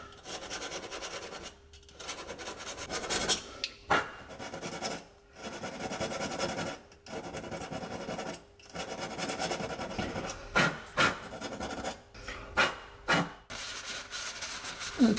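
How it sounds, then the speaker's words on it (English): A hand file rasps in short, repeated strokes against the rusty edge of a Jaguar S-Type's metal body panel, each scrape separated by brief pauses, close and moderately loud. "Maybe a file can help me get rid of the remaining rust here in this edge."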